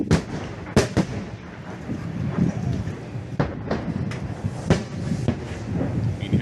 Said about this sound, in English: You can hear the explosions at an incredibly close distance